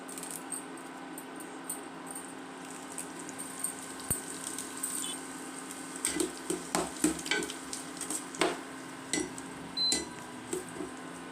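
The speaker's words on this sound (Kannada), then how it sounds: "ಈಗ ಅದಕ್ಕೆ ಕರಿಬೇವಿನ ಎಲೆಗಳನ್ನ ಹಾಕೋಣ" Curry leaves frying in hot oil with onion in a pan, a faint low sizzle under intermittent soft scrapes and clicks of a stirring spoon that grow busier toward the end.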